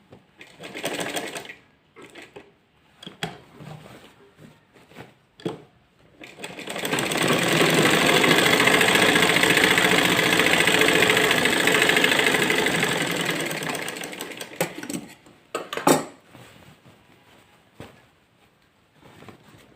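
Sewing machine stitching a four-panel salwar in one long continuous run of steady whirring, loud and close, framed by short start-stop bursts and handling clatter before and after.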